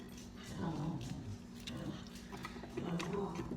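Dogs whimpering faintly indoors in a kitchen while food is prepared, thin whines and soft yips scattered through low background hum and clatter.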